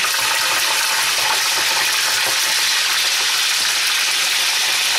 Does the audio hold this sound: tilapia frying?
yes